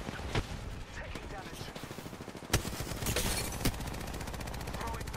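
Apex Legends gunfire rattles in rapid bursts, sharp automatic shots and a few louder cracks over a busy battle din, with a voice talking over part of it.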